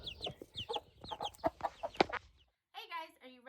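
A mother hen clucks in a coop beside her week-old chick, a run of close, soft clucks and murmurs followed by a brief pause and a few higher, drawn-out calls.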